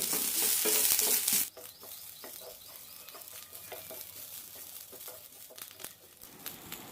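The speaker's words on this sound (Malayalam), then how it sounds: "രണ്ട് ടേബിൾ സ്പൂൺ തേങ്ങ തേങ്ങയ്ക്ക് ചെറുതായൊരു ഗോൾഡൻ കളർ വരുന്നവരെ വഴറ്റാം" Two tablespoons of grated coconut are sautéed in a pan until lightly golden, starting with a loud hiss that drops to a softer crackle, with frequent scraping stir strokes throughout.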